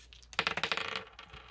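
Dice are rolled for an astrology reading, producing a quick rattling run of sharp clicks as they tumble and settle, close and fairly loud, with no talk.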